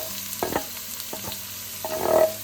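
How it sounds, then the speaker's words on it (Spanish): Onion fries in bubbling oil with a pinch of cumin on a stovetop, a soft sizzle under a few clinking stirs, ending in a louder brief sizzle burst, close and with no talking. "Espera hasta el aceite es borbejante. Añada la cebolla."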